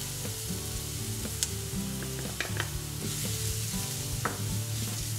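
Steady sizzling of flour toasting in a frying pan with onion, with occasional scraping stirs, close up and fairly quiet, while faint background music plays underneath.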